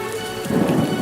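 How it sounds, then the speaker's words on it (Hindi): Heavy rain pours loudly over farm fields, with a deep thunder rumble swelling under the dense downpour partway through, close and unbroken. "अचानक तेज बारिश शुरू हो गई।"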